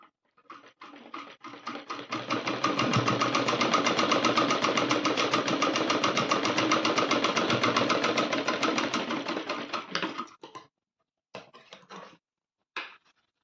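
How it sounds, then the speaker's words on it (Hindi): An electric sewing machine runs a finishing seam on a Rajputi poshak kachali, whirring in a steady close mechanical rattle for several seconds before stopping, then two short bursts of stitching. "अब इस पर भी हम फिनिशिंग की सिलाई कर देंगे।"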